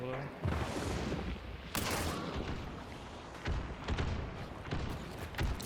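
Gunfire in the video game Hunt: Showdown, with several heavy booming shots at irregular intervals over a dense, noisy game soundscape, while a voice talks quietly underneath.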